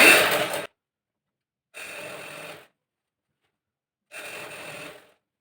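A sewing machine stitching a chudithar pant runs in three short bursts: a louder first run, then two softer, even whirring runs, each with a clean silence between.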